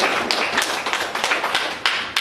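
An audience at a Kenyan community gathering claps in thanks, a short burst of loose, uneven hand claps with sharp individual taps standing out near and fairly loud.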